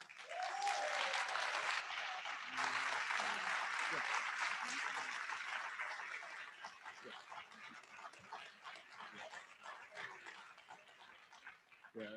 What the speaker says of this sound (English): if we could please hold our applause to the end